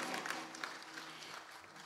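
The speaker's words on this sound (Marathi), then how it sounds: "तुम्ही टाळ्या वाजवता पण माझ्यावर उपकार केल्यासारख्या वाजवता" An audience at a kirtan claps together, a faint, distant wash of steady applause lasting about two seconds with no voices over it.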